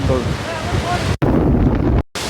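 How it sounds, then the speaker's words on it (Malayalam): Strong wind buffets loudly and continuously against the microphone, with a roaring, gusty rush and brief dropouts. "അതിശക്തമായ ഒരു കാറ്റ് തന്നെയാണ് ഇപ്പോൾ വീശിക്കൊണ്ടിരിക്കുന്നത്"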